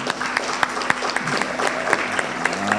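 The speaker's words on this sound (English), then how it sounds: "let's clap for the co-authors, please" Audience at a university report launch claps for the co-authors, continuous, even applause from a sizeable room with sharper individual claps poking through at a moderate, steady level.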